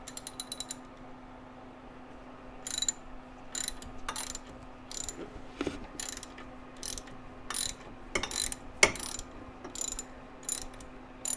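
Tightening a power steering line fitting on a C3 Corvette produces quiet, intermittent metallic ratcheting clicks and small tool knocks in short bursts, close by over a steady low hum, with no speech.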